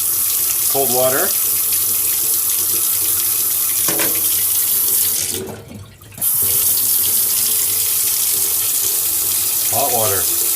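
Hot water running steadily from a tap, a loud continuous stream that briefly cuts off for a moment midway before resuming, with faint murmurs underneath.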